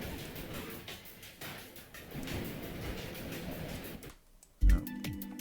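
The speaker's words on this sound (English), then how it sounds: "you can hear the delays working in the background" An audio multieffect built with Unreal Engine Metasounds, running a diffuser, produces rhythmic ticking delay repeats that smear together. A sharp thump comes near the end, followed by a brief, sparser echoing pattern.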